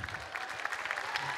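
Audience applause at a song finale of the Jeux de la Francophonie: a steady, dense clatter of many hands clapping throughout, fairly loud and sustained, with no voices standing out.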